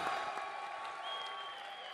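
An esports crowd applauds team Vitality at a French tournament, steady distant clapping with a faint crowd wash and a sustained tonal ring over it.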